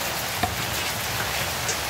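Rain falling during an outdoor ribbon cutting event on a cold day, a steady hiss of drops on surfaces with a couple of faint taps, heard alone without talk.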